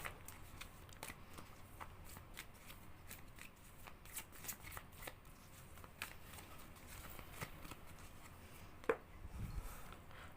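Tarot cards being shuffled by hand, a continuous dry riffling and pattering with irregular sharper flicks, close and moderately quiet, running for several seconds without talk.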